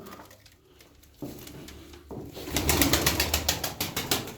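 Tumbler pigeons coo softly and then burst into loud rhythmic wing flapping close by, the beats coming fast and repeated as the birds take off.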